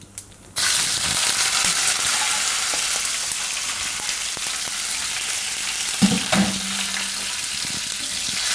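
Cauliflower florets drop into hot oil seasoned with cumin and asafoetida, bursting into a sudden loud sizzle after a quiet moment. The frying then holds steady, with a few clinks of a utensil partway through.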